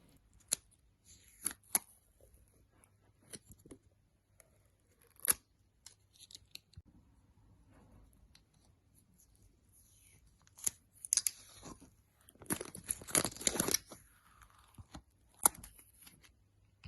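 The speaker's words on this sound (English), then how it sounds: "let you quickly listen to me peeling the protective layer off of the red cover" Protective film peeled off a red cover of an ant nest setup for Camponotus fedtschenkoi, heard as close, crisp crackling and tearing with sharp ticks and a longer rustling burst near the end.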